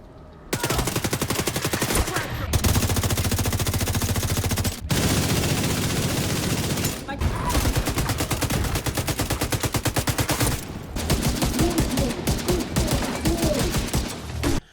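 Automatic weapon fire in the shooter game The Division 2, long loud sustained bursts of rapid rounds separated by brief pauses, dense and continuous with no talking.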